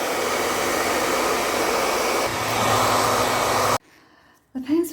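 A hairdryer set to its lowest power blows across puddles of fluid pour paint, a loud steady whoosh that runs nearly four seconds, then cuts off abruptly; a brief quiet follows before a short renewed burst of airflow.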